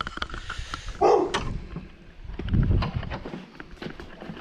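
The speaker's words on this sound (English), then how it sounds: "Horrible barking dogs." A dog barks a couple of times at close range, with short sharp yelps between quieter rustling sounds.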